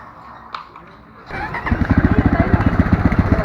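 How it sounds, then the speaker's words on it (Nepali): A motorcycle with a newly fitted battery cranks and catches after a quiet moment, then settles into a loud, rapid, pulsing idle close by. "त्यो बाइक चाहिँ स्टार्ट भयो"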